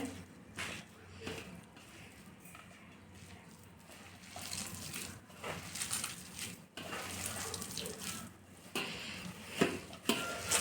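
Besan batter mixed with kasuri methi and spices, stirred in a bowl with wet, intermittent mixing and scraping sounds at close range, some strokes louder toward the end.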